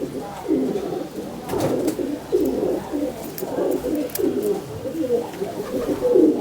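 Breeder pigeons coo in a loft in repeated soft, throaty bursts that overlap one another at moderate loudness, with a few faint higher chirps in the background.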